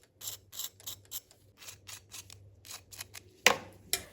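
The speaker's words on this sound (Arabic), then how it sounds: "ها هو الصوص كما سمعتوا مقرمش وفي نفس الوقت من الداخل هي طايبه ورطيبه" Crunchy air-fried french fries, heard as a rapid series of crisp crackling crunches close to the microphone, with two sharper, louder snaps near the end and no talk.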